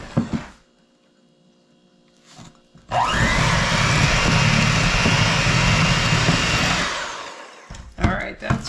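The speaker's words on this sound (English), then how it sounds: "So now I'm going to take my trusty old mixer. I'm going to mix this up." An old electric hand mixer whirs loudly and steadily for about four seconds while beating banana bread batter, starting abruptly and then cutting off, with quiet moments before and after.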